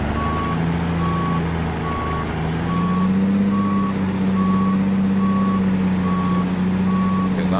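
A Peterbilt 389 truck in American Truck Simulator idles with a steady low engine drone that swells slightly, while a reversing alarm beeps in an even, regular rhythm.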